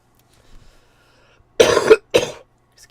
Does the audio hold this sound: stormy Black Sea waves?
no